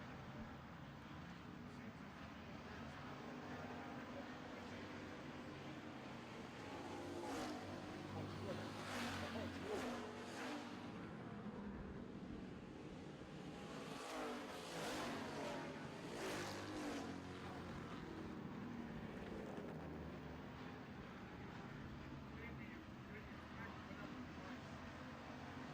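Street stock race cars roar around a dirt oval track in a feature race, engines droning and swelling as packs pass, steady and fairly distant beneath an announcer's commentary.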